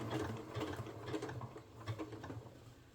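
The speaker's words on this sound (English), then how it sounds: "go ahead and test out your zigzag before you actually start sewing" Quiet, close whirring of a sewing machine running a zigzag stitch on a fanny pack, with a soft rhythmic patter that fades slightly toward the end.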